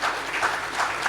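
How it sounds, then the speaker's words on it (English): A brief burst of audience applause at The DesignIndia Show 2024 as hosts come on stage. Close, lively clapping from a crowd lasts about a second at a steady level. "And you can clap, guys."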